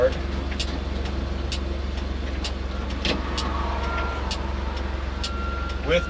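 Mack B-21 truck engine running steadily in fourth gear at low road speed, a constant low drone with faint clicks and rattles on top and traffic nearby.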